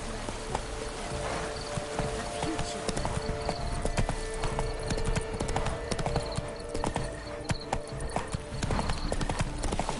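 A horse gallops in The Witcher 3, its hooves drumming in a rapid, steady clip-clop rhythm over a dense game soundscape, close and continuous with faint voices now and then.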